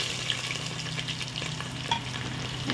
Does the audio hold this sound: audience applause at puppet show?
no